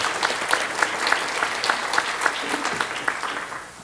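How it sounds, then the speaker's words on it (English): Audience applause after a panelist is thanked at a journalism and democracy event, a steady wash of many hands clapping throughout before tapering off at the end. "You may applaud that."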